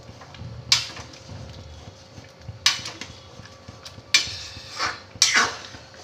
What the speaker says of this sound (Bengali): হাতা দিয়ে ডালটাকে একটু ঘেটে দেব এইভাবে